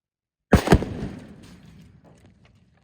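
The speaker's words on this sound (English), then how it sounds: "I'm going to be taking a shot at a computer screen." A single gunshot set off against Tannerite and a computer monitor, a sharp blast followed by a second quick crack and a long fading rumble, heard alone with no talk.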